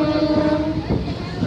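A local train on the Mecheda to Digha line rolls along the rails with a loud, steady rumble close by, a sustained horn-like tone sounding through the first half.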